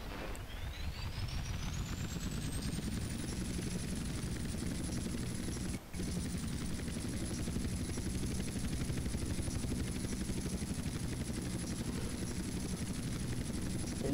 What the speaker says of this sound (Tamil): வேற லெவல்ல இருக்குது ஹெலிகாப்டர் சவுண்டு.